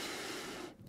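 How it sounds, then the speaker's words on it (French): A deep breath drawn as part of a tantra breathing exercise, a single steady breathy rush lasting close to a second before cutting off, heard alone and close with no talking. "Alors, on va faire une respiration."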